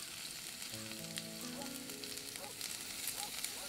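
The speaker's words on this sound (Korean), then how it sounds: "하나씩 볶아줄게요." Vegetables for japchae stir-frying in an oiled pan, a steady soft sizzle with light crackle, heard close and fairly quiet, with brief faint tonal beeps partway through.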